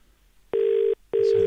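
An outgoing telephone call rings out: two identical, loud, steady ring tones, each under half a second, separated by a short silence.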